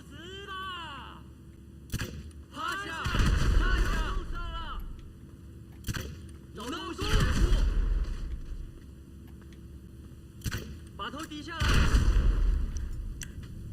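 Grenade blasts in GTA 5 Online go off in a series of three heavy booming explosions with rumbling tails, spaced several seconds apart, amid game sound effects and voices talking.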